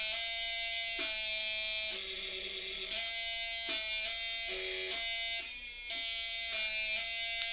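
A harsh electrical buzz from a DIY high-voltage mechanical relay power supply, a steady harmonic drone whose pitch steps up and down several times as voltage, current and frequency change, loud and continuous throughout.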